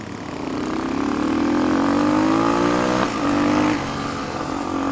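A Kayo K6 motard motorcycle revs nearby as it is ridden uphill, the engine droning steadily with a rising pitch, a brief dip around a gear change, then pulling on strongly.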